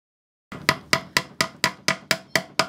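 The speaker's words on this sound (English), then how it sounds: "I'm just using a little tack hammer where I make my little marks to tack." A small tack hammer taps nine times in a steady, even rhythm, tacking upholstery onto vintage furniture, each strike sharp and close, after a brief silence.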